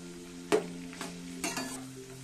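Whole coriander and cumin seeds fry in a pan for a chutney, giving a soft, low sizzle broken by a few sharp scrapes or knocks of a spoon, no one speaking.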